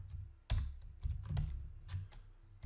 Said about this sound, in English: Damn keyboard.